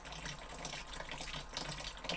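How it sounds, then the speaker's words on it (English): Steady water flowing through a gold drop concentrator that separates garnets and heavier material from lighter sediment, a continuous close rushing trickle at even loudness with no talk. "If I want to increase that amount, I will decrease the water flow."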